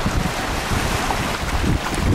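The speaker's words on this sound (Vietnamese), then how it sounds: "Bởi vì gió này nó hay bắt chợt lắm nha các bạn" Strong gusting sea wind buffets a high-speed passenger boat caught in a storm, roaring steadily and loud at close range, with waves rushing beneath and no voices.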